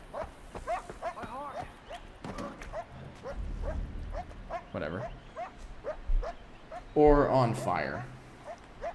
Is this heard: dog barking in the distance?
yes